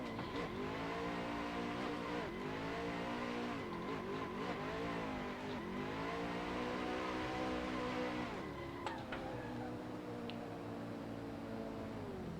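A drift car runs a lap close along a wall, its engine revving and sweeping up and down in long rising and falling surges, with tire squeal, before the engine note drops away near the end.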